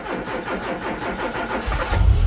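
A fuel-injected Citroen ZX engine cranks with a rapid, rhythmic starter churn, then catches and fires up, its low rumble swelling loudly at the end as it settles into running.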